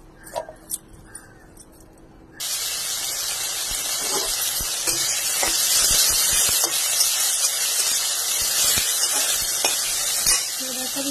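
Something frying with onion in a pan starts suddenly as food hits the hot oil, becoming a loud, steady close sizzle with occasional stirring clicks; faint household sounds come before it.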